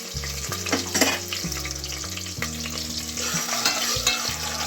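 Special khichdi with dry fruits is stirred in a pot, with repeated scraping strokes of a spoon against the metal over a steady sizzle, close and moderately loud, without speech.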